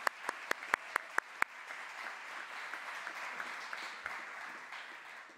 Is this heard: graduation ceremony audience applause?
yes